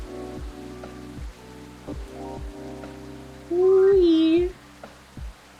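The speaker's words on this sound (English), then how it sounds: "That rain is really pouring." Heavy rain pours in the video game Coffee Talk 2 as a steady wash beneath soft looping game music with tonal chimes and a brief rising cat-like meow.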